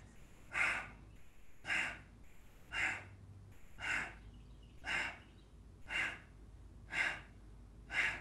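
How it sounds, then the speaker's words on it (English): Breath-of-fire breathing exercise: eight sharp, forceful breaths puff out at an even pace of about one per second, close and clear over a quiet room. "Energizing breath of fire, everyone breathing in fully."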